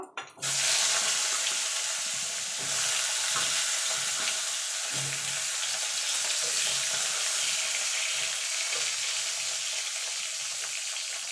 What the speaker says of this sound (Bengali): এই তেলে বেগুনগুলো ভেজে নেব।